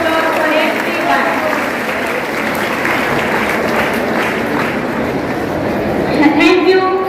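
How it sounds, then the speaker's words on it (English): Applause from an audience at a school Independence Day celebration, a steady crowd clapping that holds for several seconds, fairly loud and continuous, with some voices mixed in near the end. "Big, very big round of applause for everyone."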